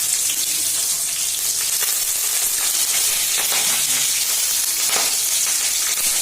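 Green chillies and curry leaves hit hot oil in a pan for roti upma, giving a steady, loud, broadband sizzle with crackling pops throughout and no talking.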